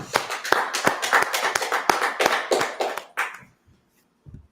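A small group claps hands in a quick, ragged rhythm at a Tuesday night brotherhood class. The sharp, close claps run for about three seconds and then stop abruptly, leaving near silence with one faint tap afterward.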